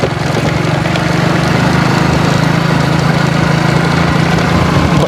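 Loud, steady drone of a motorcycle engine while riding, a constant low hum with rumbling road and wind noise throughout, heard close up with no pauses.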